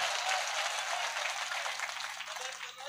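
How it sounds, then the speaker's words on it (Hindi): Audience at an All India Mushaira in Biswa breaks into loud, sustained applause, dense clapping close and continuous that slowly thins toward the end, with no voices over it. "एक बार जोरदार तालियां बजाइए।"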